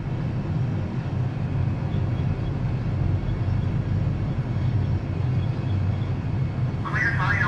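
An Airbus A320 makes its takeoff roll in a flight simulator at Dubai International, a loud, steady broadband engine roar throughout, with a brief voice near the end.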